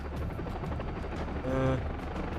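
A video game helicopter's rotor drone hums low and steady, fairly faint, with a short tonal beep partway through, in Far Cry 3.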